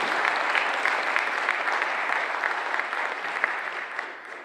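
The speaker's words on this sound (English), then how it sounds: "Big round of applause, please, for David Mann." An audience at a farming technology expo claps steadily after a presentation, a dense sustained round of applause that tapers off toward the end.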